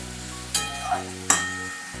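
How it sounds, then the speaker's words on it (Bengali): Hot water hits a sizzling pan of spiced bitter gourd curry: two sudden hissing bursts a moment apart over a low steady cooking hum. "অল্প একটু গরম জল আমি এখানে অ্যাড করছি"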